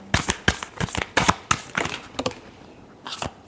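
A deck of tarot cards shuffled in quick riffling bursts, a run of crisp card snaps and flutters with brief pauses between, close and fairly loud.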